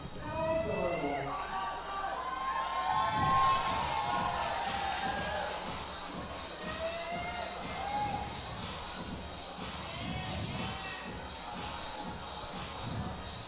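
Competitors at a climbing national championship final cheer and clap as a crowd, a steady murmur of voices and shuffling with occasional louder shouts, under continuous commentary.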